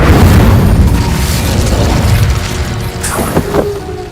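A fiery Incendio spell blast from Hogwarts Legacy, a loud booming whoosh that starts at full strength and slowly fades over a few seconds, with a few sharp crackles and a brief tonal flare near the end.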